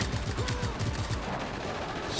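Automatic gunfire in the open-world action game Just Cause 3: rapid, rhythmic bursts of shots that repeat steadily through the clip over a busy game soundscape.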